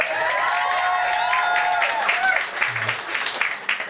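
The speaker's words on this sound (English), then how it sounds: "Can we get a round of applause for Scotland for having us?" An audience at a university comedy night breaks into applause and cheering, with a dense patter of clapping that holds steady before thinning out into scattered claps toward the end.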